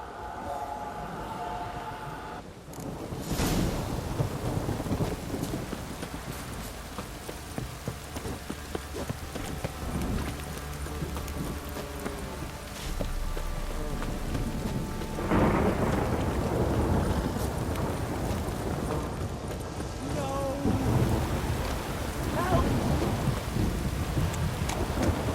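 Heavy rain pours down in a downpour in The Witcher 3, a constant hiss of drops on surfaces broken by booming rolls of thunder near the start and again midway, with no voices.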